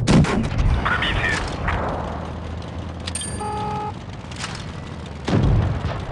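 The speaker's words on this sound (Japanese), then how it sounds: "私はマイペースでまったり、榴弾を撃っていきますわ" In World of Tanks Blitz, a tank fires high-explosive shells, with heavy booming shots near the start and again near the end, separated by electronic game tones and constant battle noise.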